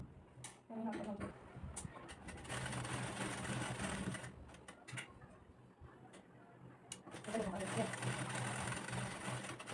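A sewing machine stitches blouse fabric in bursts of rapid mechanical whirring and ticking, starting and stopping several times, close by and moderately loud, with a voice talking between runs.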